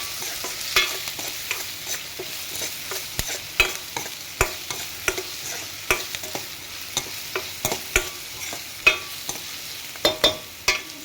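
Chopped tomatoes fry in a pan for rasam while a spatula scrapes and clacks against the metal in an irregular rhythm over a soft, continuous sizzle. No voices are heard.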